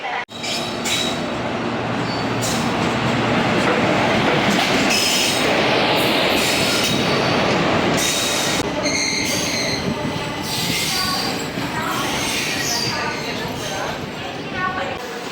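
A passenger train, the Trichy to Tambaram Special Express, rumbling loudly and close with squealing wheels and clattering rail noise that rise and fall, while people talk around it.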